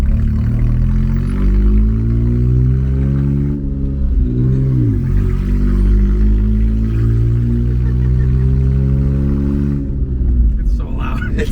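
Loud kei truck engine breathing through a motorcycle muffler, a steady raspy drone that dips and rises as it revs and shifts, with people talking over it near the end.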